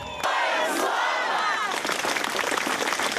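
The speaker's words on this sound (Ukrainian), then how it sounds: "Містяни зустріли їх оваціями та квітами" Townspeople greet soldiers returning to a military base with a loud ovation: shouting and cheering voices at first, then a dense burst of clapping mixed with cries that continues to the end.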